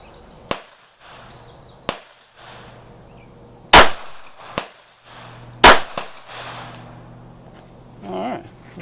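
A .380 Auto pistol firing Hornady 90-grain XTP bullets into a stack of boards: a few sharp, close reports with short gaps between them, two of them especially loud, plus lighter clicks and clatter in a quiet outdoor setting.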